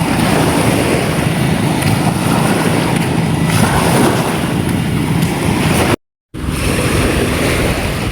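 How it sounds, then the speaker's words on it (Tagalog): Rough, choppy sea heard from a boat: a constant roaring wash of waves and wind, loud and close, with a brief dropout near the end and no talking. "Medyo maalon po yung dagat ngayon."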